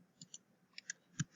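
A few keyboard keys are tapped in a short, uneven burst of light, crisp clicks, quiet and nearby.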